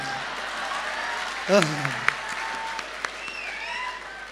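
Brief applause from an audience at a motivational talk, a short burst of clapping that rises and fades within a second or two, with someone speaking before and after it.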